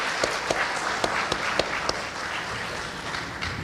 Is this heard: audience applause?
yes